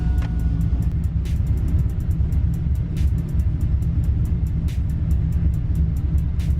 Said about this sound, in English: We can turn the truck on now and see how far off my tune is.